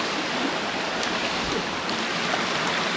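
Rushing water from a monsoon waterfall and a stream flowing across a road, a steady broadband roar that fills the whole stretch evenly without pauses.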